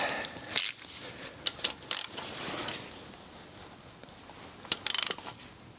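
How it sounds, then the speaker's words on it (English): Close mechanical ratcheting as a spanner turns the crankshaft of a Yamaha Fazer motorcycle engine during a valve clearance check, with a few sharp clicking bursts separated by quieter gaps. "So let's now turn the crank till the next cylinder's lobes are opposing to one another."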